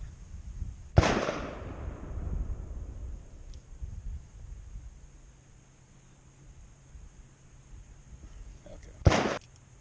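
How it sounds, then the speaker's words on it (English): Two loud pistol shots crack outdoors during target practice, about eight seconds apart, the first trailing off in a long rolling echo before faint ambient noise fills the gap. "We're just out here getting some more practice in our pistol."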